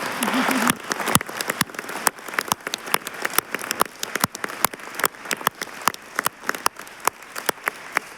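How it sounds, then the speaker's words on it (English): Sparse, scattered hand claps ring out from the audience at a conference closing session, individual sharp claps arriving irregularly against a quiet room. "this is a good moment to give a strong applause"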